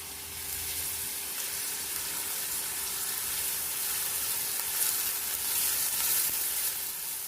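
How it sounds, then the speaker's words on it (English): Chopped onion cooking in ghee in a pan for chicken tikka masala, a steady moderate sizzle and crackle that continues evenly without speech. "I'm going to cook the onion until it's translucent"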